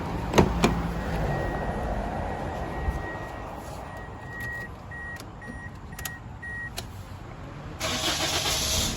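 A Toyota Vios 1.5E sedan engine cranks and starts, then settles into a steady idle, heard close and alone with no talking.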